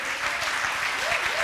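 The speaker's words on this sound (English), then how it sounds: "Can y'all give me a round of applause?" Audience applause during a keynote at a data conference, a steady crowd of hands clapping with a faint voice audible underneath.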